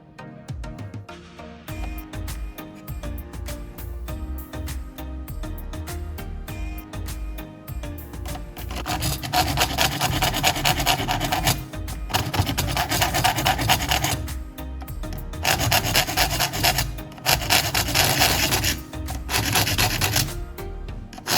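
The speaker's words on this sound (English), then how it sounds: "Carefully running the file along every tooth, I made sure it maintained the correct angle and shape." A fine file sharpens the teeth of a saw blade, rasping in repeated strokes; quieter scraping at first, then louder, rhythmic bursts of grinding rub with short pauses between passes.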